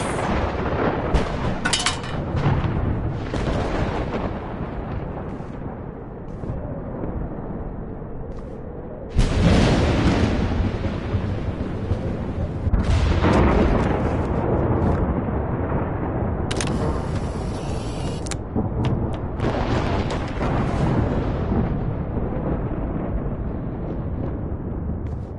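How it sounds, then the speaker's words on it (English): A tornado storm in Life Is Strange Remastered, Episode 5 rages as a dense, continuous roar of wind and rumbling debris, with sudden louder surges and crashing bursts throughout, no voices over it. "Tornado might be the end of the world."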